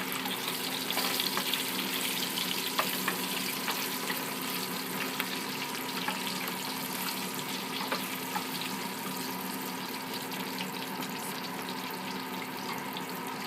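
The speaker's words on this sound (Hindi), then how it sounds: "आलू में थोड़ा सा हल्दी और साल्ट आपका टेस्ट के अनुसार भूनना है।" Potatoes fry in a pan with turmeric and salt, giving a steady, moderately loud sizzle and crackle that holds evenly throughout, with no voices.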